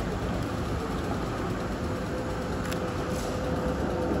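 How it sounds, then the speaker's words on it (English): A tram rolls along a city street, giving a steady dense broadband rumble and rush that stays fairly loud and even throughout, with no speech. "Because the tram runs along here."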